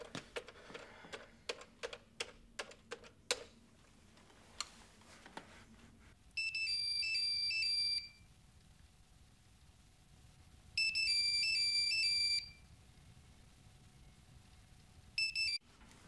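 A mobile phone rings unanswered in an indoor scene from an Egyptian drama, three bursts of bright electronic ringtone chirps separated by quiet pauses, preceded by faint tapping clicks.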